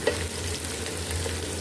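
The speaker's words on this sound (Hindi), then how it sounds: "अब इसमें हमने 2 मीडियम साइज़ की प्याज ले ली, वो कट कर ली, वो इसमें हम डाल देंगे और इसको फ्राई कर लेंगे प्याज को।" Two medium-sized chopped onions fry in hot mustard oil in a pan, giving a steady, close, dense sizzle with faint crackles throughout and no talking.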